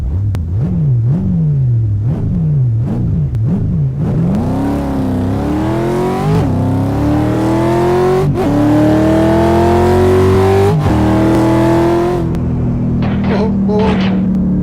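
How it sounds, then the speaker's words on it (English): Turbo car on stock, unraised suspension driving on glare ice: the engine revs in repeated rising and falling surges, then climbs in one long pull before easing off, loud and close, with an occasional creak from the suspension. "That's the suspension that was stock, remember? We haven't raised it any, so it had that creepy sound."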